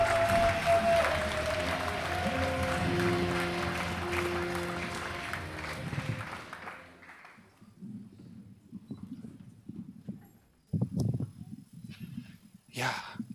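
Audience applause for a performer at a Bavarian poetry slam semifinal, a dense sustained clapping that fades out after about six seconds, followed by the performer speaking alone.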